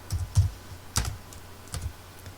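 A few soft, dull keystrokes on a computer keyboard come at the Ubuntu Linux terminal, close and quiet, spaced irregularly over about two seconds, with no one speaking.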